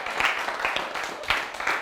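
Lecture audience clapping in a hall, a short run of steady claps with a few sharper accents, moderately loud and close, with no voices over it.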